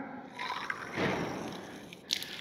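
Water rushing from a newly connected well pipe into a new house's plumbing, a hissing, spattering flow that sputters with air before steadying, ending in a short burst.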